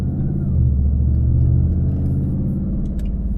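Pontiac G8 GT engine droning steadily while driving, a loud low rumble that holds even and close throughout with no clear revving.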